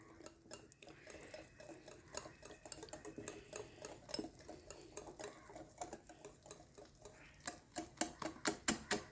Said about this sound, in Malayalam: നന്നായിട്ടൊന്ന് മിക്സ് ചെയ്തെടുക്കാം